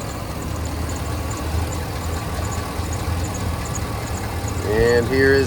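A 6.0-litre V8 in a 2006 GMC Sierra pickup idles with a steady, low rumble throughout, and brief squeaky tonal chirps rise near the end.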